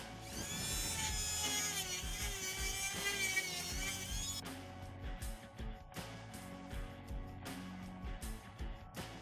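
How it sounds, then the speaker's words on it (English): A high-pitched rotary tool whines steadily while hollowing out a plastic action figure, its pitch wavering under load, then continues in choppier bursts as it cuts. "for that I'm going to use my rotary tool here, this one."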